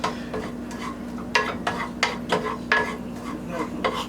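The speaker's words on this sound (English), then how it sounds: "Stir." Shrimp scampi stirred in a pan, a series of distinct scraping, clinking strokes of a utensil against metal in an uneven rhythm, close and clear over a faint sizzle.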